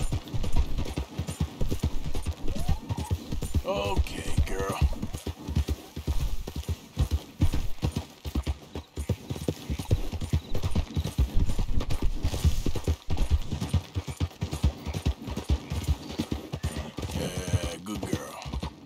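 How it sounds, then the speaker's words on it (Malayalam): A horse gallops at speed in Red Dead Redemption 2, its hooves drumming in a quick, continuous clip-clop with some heavy breathing and snorts mixed in, close and steady throughout. "നമ്മുടെ കുതിരയ്ക്ക് എന്താ പറയുക ഇച്ചിരി സ്പീഡ് കൂടുമ്പോഴത്തേക്കൊക്കെ കിടന്ന് കിതയ്ക്കുന്നേ"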